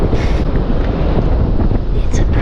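Strong wind at Sunset Beach in St. Pete buffets the microphone in a loud, steady rumbling roar, with a voice faintly speaking underneath.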